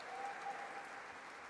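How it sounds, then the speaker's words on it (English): Steady applause from an audience at a fundraising dinner fills the space, an even wash of clapping heard at a distance without pauses. "let's all give a round of applause"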